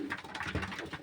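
A pigeon nesting on its eggs gives a soft, low cooing in a few short pulses, close but faint, with light background noise around it.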